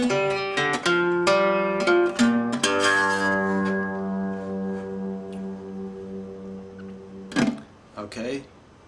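A guitar plays a Delta blues riff: a few plucked notes, then a low ringing open fifth string that sustains for several seconds before a couple of sharper strums at the end.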